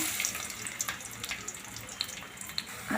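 Onion frying in hot oil with bay leaf and cinnamon: a continuous crackling, hissing sizzle with small pops throughout, moderately quiet and close.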